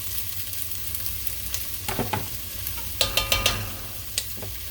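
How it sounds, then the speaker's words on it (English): White onion sautés in a hot pan, making a low, steady sizzle with a few sharp crackles and spatters standing out near the end, close by and with no voices. "you're going to go ahead and let that saute till they're softened"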